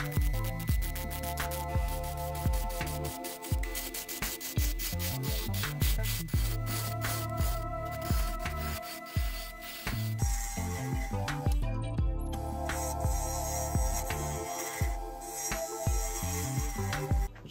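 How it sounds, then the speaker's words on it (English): Red fruited mallee burl being sanded on a wood lathe, a continuous rubbing and rasping over the steady hum of the spinning lathe, with pitch and texture shifting as the paper moves across the uneven burl, close and loud throughout. "just part way through sanding"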